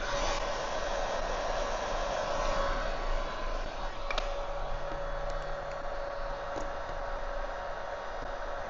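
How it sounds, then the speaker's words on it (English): A hairdryer or heat gun blows steadily up close while heating tail light tint film on a Dodge Charger, a constant airy whir with a faint tonal hum and a few light handling clicks. "Heat source, either a hairdryer or a heat gun."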